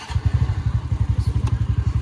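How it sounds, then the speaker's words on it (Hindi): A motorcycle engine idles and blips close by on a street in Almora, a rapid, even train of heavy low thumps that keeps a steady loud rhythm throughout. "सुपर भाई वाली साउंड निकालता हूँ, अभी निकल जाएगी यहाँ से"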